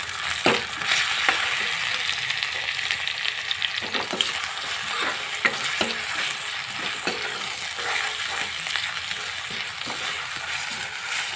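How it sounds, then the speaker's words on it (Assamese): Ginger garlic paste frying with browned onions in a pan, a continuous close sizzle with regular scraping stirs throughout, with no one talking. "তো আদা নহৰুৰ পেষ্টখিনিও মই ভাজি ল'ম ভালদৰে।"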